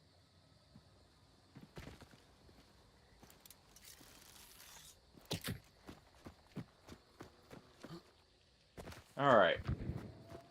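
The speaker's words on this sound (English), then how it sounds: "I just heard the footsteps behind me" Footsteps crunch and thud behind the player in the game Hunt Showdown 1896, irregular steps spaced through the scene with a louder scuffing burst near the end, and a voice speaks briefly.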